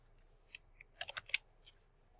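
Several quick keyboard keystrokes tapped out while entering text in OnShape CAD software, a short irregular cluster of crisp clicks with one louder keypress, close and alone in a quiet room.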